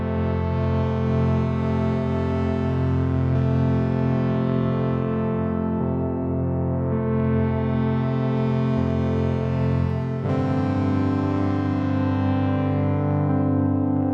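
Sonicware Texture Lab granular effects processor with its filter modulation running and the cutoff raised, giving a dense, sustained harmonic texture whose brightness sweeps down and back up in a slow cycle, with a sudden shift near the end, loud and alone.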